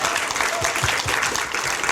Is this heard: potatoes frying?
no